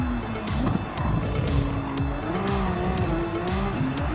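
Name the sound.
Genesis X VGT race car braking hard at Monza chicane, Gran Turismo 7 video game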